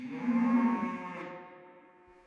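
A single cow on an Australian dairy farm gives one loud, close moo lasting about two seconds that tapers off at the end, with no talking.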